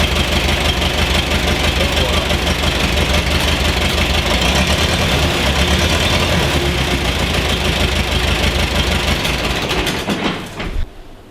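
A German Lanz Bulldog tractor engine runs loudly and close, a steady heavy knocking thump that holds throughout before dropping off abruptly near the end.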